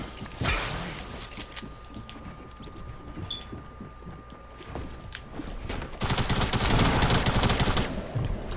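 Gunfire crackles through a zone war match in a video game: scattered shots and clatter at moderate volume, then a dense, loud sustained automatic burst near the end.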